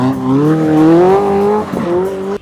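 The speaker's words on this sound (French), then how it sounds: "se mettre en travers sur la neige avec une F40" Ferrari F40 sliding sideways on snow: a loud, close engine note rises steadily in pitch and then dips briefly before climbing again, with the car heard alone and no talk.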